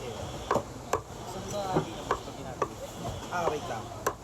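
A butcher's knife chopping chicken wings, a series of sharp irregular thwacks on a board, close and fairly loud, with a background hum and some talking mixed in.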